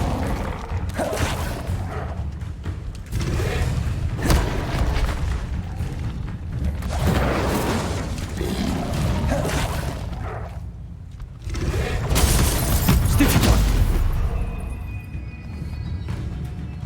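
Incendio fire spell cast in the Hogwarts Legacy video game: a string of loud whooshing, rumbling bursts and booms, repeating every couple of seconds across the whole stretch, with a heavier flare near the end.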